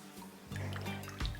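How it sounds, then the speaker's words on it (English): Water drips and trickles steadily as boiled bathua leaves are squeezed by hand, close and fairly quiet, with no voices. "I am squeezing out all the excess water from the leaves"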